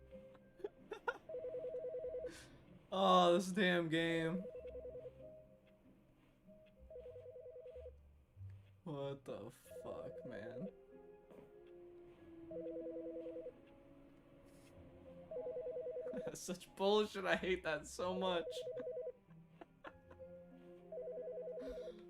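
Repeated electronic ringing of a telephone in The Stanley Parable, steady bursts returning through the clip while someone talks loudly over and between the rings.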